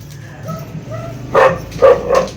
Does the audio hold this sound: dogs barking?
yes